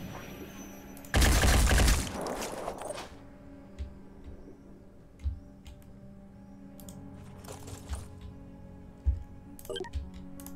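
Weapon fire in the Phoenix Point strategy game: a loud dense burst of shots lasting about a second, followed by scattered fainter impacts and clicks over a low game ambience.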